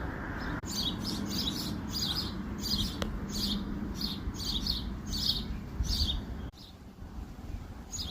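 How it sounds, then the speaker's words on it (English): Robins, blue jays and sparrows chirp in short repeated bursts outdoors on a farm with a storm brewing, the calls fairly faint over a soft wind rush. "Birds are chirping. Robins. Blue jays."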